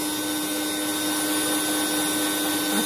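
An electric hand mixer whirs steadily as it beats sweet potato cheese cake batter with flour and milk powder, a continuous close motor drone with no talking.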